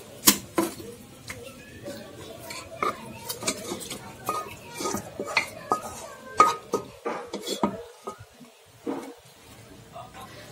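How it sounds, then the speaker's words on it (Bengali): Mutton tipped into a pressure cooker holding fried potatoes, with scattered metallic clinks, scrapes and knocks of utensils against pots arriving in an irregular, close-up rhythm. "মাংসটা প্রেশার কুকারে ঢেলে দেব।"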